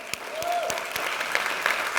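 Audience applause fills a motivational talk, a steady wash of many hands clapping that stays even for about two seconds, fairly close and full.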